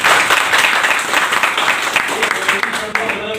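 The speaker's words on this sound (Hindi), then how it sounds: "मैं जबरदस्त तालियां चाहूँगा उनके।" Audience applause at a Hindi-language motivational networking talk, dense steady clapping from a crowd throughout, loud and close, tapering slightly at the end.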